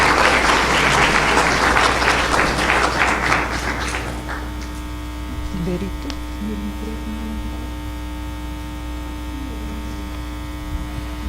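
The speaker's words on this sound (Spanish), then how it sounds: "Un aplauso para los panelistas" Audience applause for panelists at a book and documentary presentation, loud dense clapping for about four seconds that then stops, leaving a steady electrical mains hum and faint room noise.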